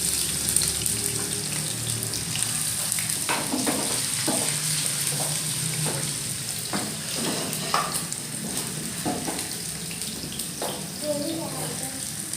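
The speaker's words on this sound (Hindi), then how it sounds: "इसके अंदर हम ऑयल डाल देंगे।" Oil hits a pan and sizzles while cooking aloo matar in a home kitchen, a steady hiss with scattered clinks and knocks of utensils, and people talking over it.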